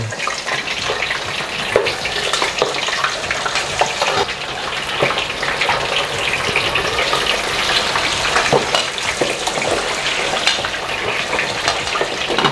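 A pork slab for bagnet fries in hot oil over high heat, a dense, loud, continuous bubbling sizzle and crackle with frequent pops throughout.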